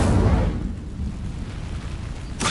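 An Incendio fire spell cast in the Hogwarts Legacy video game bursts out as a loud, roaring whoosh that fades into a steady rumbling burn, with a second swelling flare near the end.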